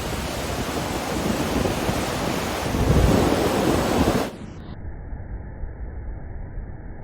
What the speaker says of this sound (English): this is the fastest swift water I think we've ever seen